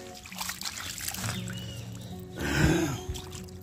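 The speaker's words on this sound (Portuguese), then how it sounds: "Passa uma água aqui." Water trickles and splashes over a small pigment stone found outdoors, a soft pouring burst near the end, close and fairly quiet.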